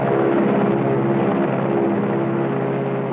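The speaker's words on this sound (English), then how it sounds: "The bomb-carrying plane makes its initial run." A bomb-carrying plane from a 1954 sci-fi film drones steadily overhead, a loud, continuous engine roar with a low rumbling hum that holds throughout with no voices.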